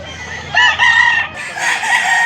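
A White Kelso rooster crows loudly and close by in two drawn-out calls separated by a short gap, with faint background noise underneath.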